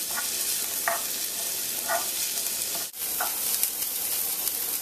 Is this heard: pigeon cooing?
no